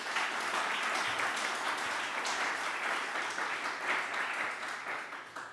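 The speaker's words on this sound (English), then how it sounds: "So please give a round of applause to them" Audience applause at an academic panel on the legacy of Nuremberg, a steady dense wash of clapping from a crowd that holds even and full for several seconds, with no talk over it.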